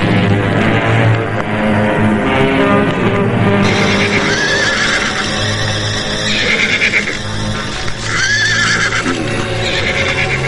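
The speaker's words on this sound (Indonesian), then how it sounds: "siapkan 6 ekor kuda yang terbaik" Horses whinny with loud rising neighs, two distinct calls rising over a constant bed of clip-clopping hooves and tonal background music, close and prominent throughout.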